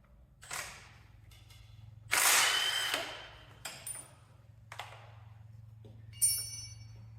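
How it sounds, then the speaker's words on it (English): A cordless impact driver works on a Cub Cadet 2000 Series lawn mower during motor removal, with short whirring bursts and clicks separated by pauses, close up over a steady low hum. "I don't know what we did before we had these cordless impacts."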